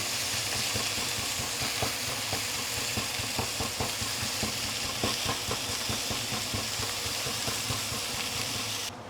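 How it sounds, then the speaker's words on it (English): Fish sizzles in a hot pan for a milky fish soup, a loud continuous frying hiss with crackling pops and occasional scraping of a utensil throughout. "So we are going to pan fry the fish for a couple of minutes."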